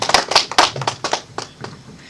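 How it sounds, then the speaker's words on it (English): A short, sparse round of clapping from a few audience members at a policy roundtable session, with a quick burst of claps that thins out and fades within about two seconds. "A round of applause for us."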